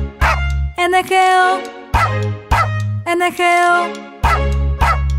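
Cartoon dog barks punctuate the Spanish-language children's song about the farmer's dog Bingo, short yaps in rhythm with bright sung vocals and a bouncy backing track.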